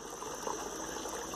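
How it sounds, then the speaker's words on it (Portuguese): Water running into a newly dug well, a steady close hiss and gush that holds even and continuous from start to end. "ó o barulhinho da água aí, ó. Só que o poço é novo, né?"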